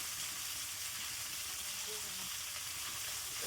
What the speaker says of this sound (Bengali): তুই খালি মাছে ভাজি ভাজা যাও